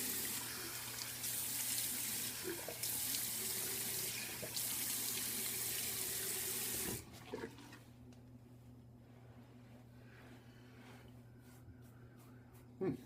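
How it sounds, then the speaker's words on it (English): Tap water runs steadily and close by at a sink while face scrub is rinsed off, then cuts out, leaving quieter splashes and room noise. "And we're going to wash it off."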